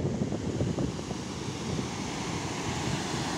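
Rushing water of the Amritdhara waterfall, a steady broadband roar of falling water heard from nearby, with wind buffeting the microphone and no talking.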